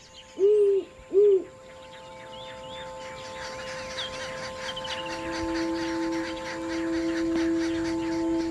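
Great horned owl giving two deep, close hoots in quick succession, then quiet ambient bird chatter and a faint steady tone continuing alone.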